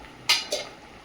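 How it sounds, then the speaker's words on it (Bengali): A metal lid lifted off a pot of simmering fish curry with ridge gourd and potato, two quick close clinks about a quarter second apart over a faint bubbling background. "ঢাকনাটা খুলে দেখে নেব।"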